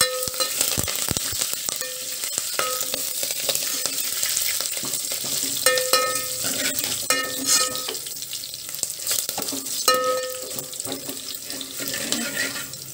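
Curry leaves fry in a pan for Andhra-style pepper rasam, giving a continuous spitting crackle with scattered sharp pops and occasional clinks, moderately loud and close.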